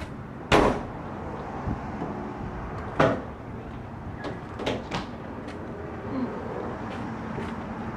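An Extang Solid Fold 2.0 tonneau cover on a Toyota Tundra truck bed is folded shut, giving two sharp latching thuds followed by several lighter clicks and knocks against a quiet outdoor background.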